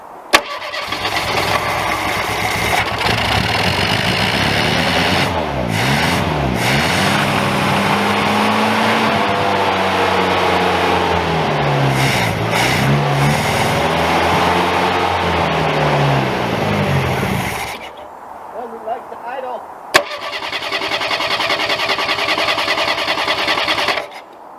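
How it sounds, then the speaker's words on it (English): Classic Ford Pinto engine cold starting, then running at a rough, wavering idle with pitch that rises and falls, loud and close, before cutting out briefly and catching again near the end. "Pinto has ran. It cold started very quickly."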